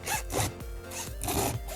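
Scissors or a blade cutting through the pleated mesh of a used Castrol oil filter, a loud close rasping scrape repeated in several quick strokes, with no voices.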